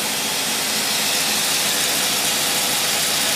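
A car engine with a Holley 4779 carburetor held at full torque against the transmission with the brake on, a loud, steady, strained drone with a rhythmic low throb throughout.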